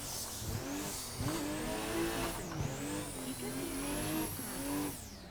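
Tando Buddies drift cars in Assetto Corsa scream along in sustained high revs with shifting engine pitch and tire noise, loud and continuous through the whole stretch.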